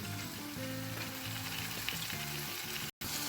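Tomatoes with green chilies cook in a pan on a London street food stall. A steady, close sizzle runs throughout, with background music and a brief cut near the end.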